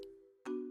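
A lower-voiced software marimba chord part for an Afrobeat track, heard as a sustained ringing chord followed by a fresh struck chord near the end, soft and clean with nothing else in the mix.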